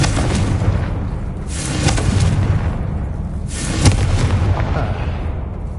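In the Hogwarts Legacy game, repeated fiery Confringo blasting spell explosions rumble as loud booms over a continuous roaring background, with sharp cracks striking at a slow, irregular pace.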